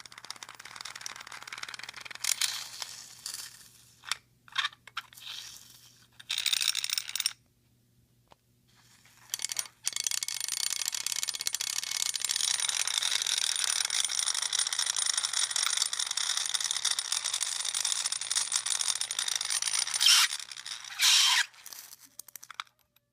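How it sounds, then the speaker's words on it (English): A quarter set on a block of dry ice vibrates and sings, a sustained high, bright metallic rattling that comes in short bursts early on and then holds steady for about ten seconds before stopping. "And you got your singing quarters."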